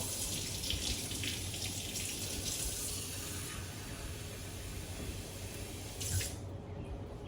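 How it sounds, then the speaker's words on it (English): A kitchen tap runs cold water in a steady, close, continuous rush into a sink, with slight shifts in the splashing and no talking. "I just turned on the water there because I want it really cold"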